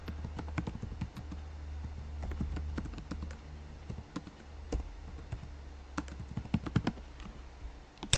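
A chart title being typed into an Excel spreadsheet on a computer keyboard, with steady close key clicks over a low background hum and no talking.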